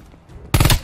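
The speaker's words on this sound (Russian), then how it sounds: "Стреляю!" A rapid burst of gunfire in the shooter game Call of Duty Black Ops Cold War, loud and close, erupting suddenly after a quiet moment and lasting under half a second.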